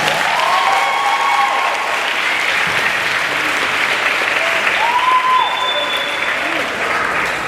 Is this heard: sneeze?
no